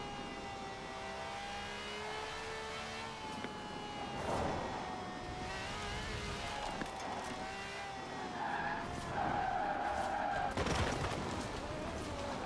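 A racing car's engine in a video game whines and revs continuously, with rising and falling pitch, tire squeals and skids breaking through, loud and close throughout.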